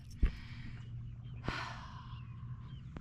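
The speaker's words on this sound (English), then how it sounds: "We're both heavy breathing." Heavy, audible breaths during a kayak trip, with a sharp gasp at the start and another mid-way, followed by quieter panting exhales.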